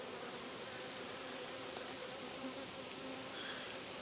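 Honeybees buzz steadily and close by while a hive is opened and a frame is lowered back in during a full apiary inspection of a queenless colony, a dense, even drone with no talking.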